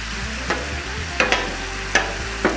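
Chorizo sizzles on a Blackstone griddle in a steady low hiss, with a few sharp spatula taps and scrapes against the flat-top at irregular intervals.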